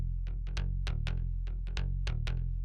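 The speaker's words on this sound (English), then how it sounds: "So I play the same bass line with a less noisy bass," A cleaner, less noisy bass guitar line with a touch of delay, played as a run of plucked notes in a steady syncopated rhythm, close and alone.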